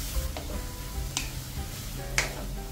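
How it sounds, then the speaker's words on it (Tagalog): Vegetables stir-fried in a pan with a splash of water for Filipino pansit canton, a steady sizzle under scraping spatula strokes and a few sharp clinks against the pan. "Ayan, gisa-gisahin lang at mix."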